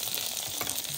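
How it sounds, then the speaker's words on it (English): Zebu meat frying in Madagascar, a dense steady hiss of crackling sizzle, close and continuous through a short moment. "This time, it was the zebu sizzling."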